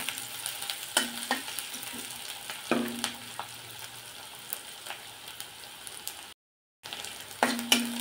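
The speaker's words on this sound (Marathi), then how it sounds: "कांदा आपण तेलावरती व्यवस्थित परतून घेणार आहोत।" Onion sautés in oil with green chilli in a pan for a chawli usal, a quiet steady sizzle broken by several sharp spatula scrapes and a brief silent gap near the end.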